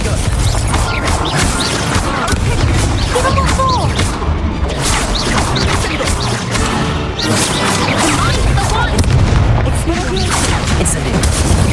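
Fire spells blast during a Hogwarts Legacy duel, repeated booms, whooshes and crashing impacts in a loud continuous clash, with voices shouting over the fight.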